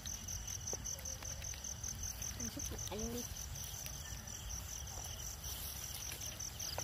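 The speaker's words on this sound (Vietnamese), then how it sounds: "Nghe cóc nhái mồi tọt của ngoài đồng nó kêu luôn" Night ambience in an open rice field, with frogs and toads calling steadily alongside a dense, continuous insect chorus, moderately loud, while people speak briefly over it.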